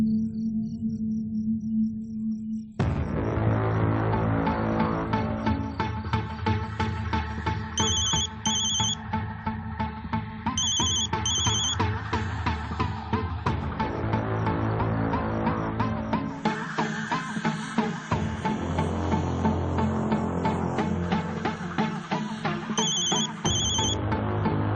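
A phone rings during an outgoing call to dad, a repeating electronic ring pattern sounding in short bursts over a steady background of music and tones lasting throughout.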